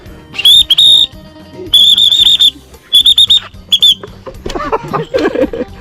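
A shrill whistle blown beside the Mekong river while line fishing, several sharp bursts of varying length in quick succession, loud and close, followed by a short stretch of rustling and voices.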